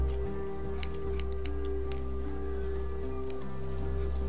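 Scissors snip in The Walking Dead video game, several short crisp cuts at irregular intervals over a steady low hum and layered game music.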